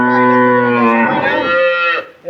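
A cow at a cattle market, sold together with a calf, gives one long, loud, close moo lasting about two seconds, then a short trailing grunt.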